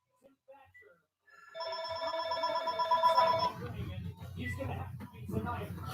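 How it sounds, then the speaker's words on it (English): A telephone rings inside a house, one long electronic trill burst close by, cut off partway while someone talks before and after it. "of course, the phone's got to ring"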